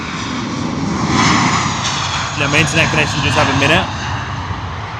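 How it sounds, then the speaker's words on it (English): An Airbus A320 airliner taking off at London Heathrow gives a loud, sustained jet engine roar that swells and holds, with a voice speaking briefly over it midway. "I'm going to let this Airbus A320 go"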